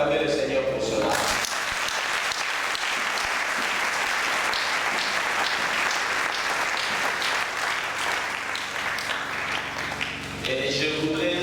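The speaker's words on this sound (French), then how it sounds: "Est-ce qu'on peut acclamer le Seigneur pour cela?" A church congregation breaks into loud, sustained applause and cheering for about ten seconds, filling the room, with a voice speaking briefly before it and again as it fades.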